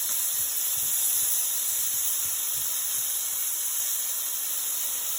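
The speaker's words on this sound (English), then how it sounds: "We just want them to get a nice little browning done." Oxtails brown in a pan, a steady even hiss of frying fat, close and continuous with no talking.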